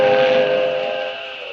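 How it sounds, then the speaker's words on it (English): A slow train crosses a long railway trestle, sounding a sustained whistle-like tone that is loudest at first and then eases off, with a steady rumbling bed beneath it. "I'd get aboard that train if it weren't so slow."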